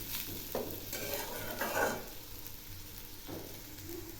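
Frying rice is stirred in a pan, with a few distinct scraping sweeps rising over a constant sizzle, near and clear, no speech.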